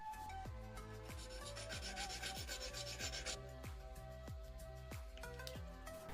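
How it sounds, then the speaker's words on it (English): Rhythmic rasping strokes of a blade sawing through the plastic housing of a broken LED bulb, about a dozen even back-and-forth cuts close up, steady and moderately loud over a faint background hum. "Now, according to the markings, we cut off part of the housing."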